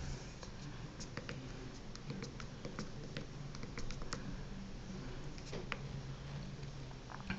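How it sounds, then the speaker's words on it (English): One-handed typing on the slide-out keyboard of a Kyocera Rise phone: soft, irregular clicking keypresses at close range over a faint steady hiss, with no talking. "As you can see, I'm bad at one-hand typing, but it is pretty easy to type on."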